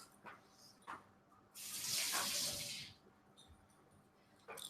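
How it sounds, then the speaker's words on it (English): Kitchen tap water runs for about a second and a half as a kitchen knife is washed during a coriander chicken cooking session, a soft splashing hiss amid quiet background sounds. "Also, wash your knife."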